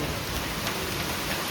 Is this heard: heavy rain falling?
yes